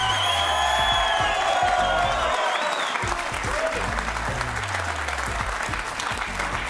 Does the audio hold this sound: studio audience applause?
yes